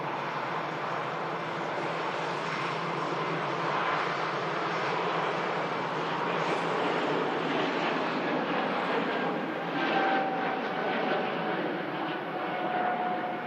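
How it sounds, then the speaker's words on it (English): An Air France Airbus A220 jet departing Manchester Airport, heard as a steady broad engine roar from a distance, with wind buffeting the microphone and no voices. "There goes the Air France A220 heading back to Paris."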